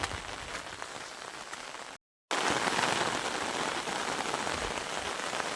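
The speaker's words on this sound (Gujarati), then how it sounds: "આ તમે જોઈ શકો ચારે બાજુ એ વરસાદનો માહોલ" Heavy rain pours onto a hilltop in a village area, a loud, unbroken roar of drops striking surfaces that cuts out for a moment and then returns just as strong.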